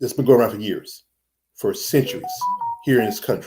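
A phone notification tone cuts in between stretches of a man's speech, a short pair of clear electronic pitched beeps heard near and fairly loud while he pauses.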